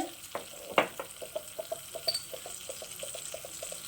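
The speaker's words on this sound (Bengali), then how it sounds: "কড়াইতেই দিলাম তেল গরম হয়ে গেছে দিয়ে দিচ্ছি এক চামচ আস্ত ধনিয়া জিরে" Whole coriander and cumin seeds crackle in hot mustard oil in a wok, giving a steady run of small, evenly spaced pops up close, with one sharper clatter near the start.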